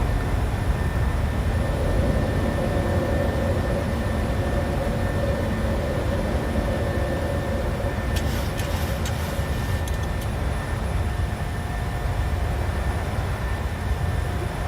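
Jet engines of a PMDG Boeing 737 in Microsoft Flight Simulator roar steadily through a blustery takeoff, a dense continuous broadband rumble that holds level throughout, with a few brief clicks near the end.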